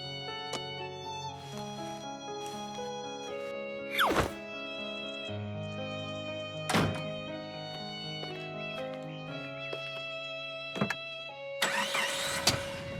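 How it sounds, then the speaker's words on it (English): Cartoon car starting up and driving off: a musical score carries throughout, with a couple of thumping impacts and a burst of rushing noise at the end as the car speeds away. "Mr. Fox set off in his car with Po beside him."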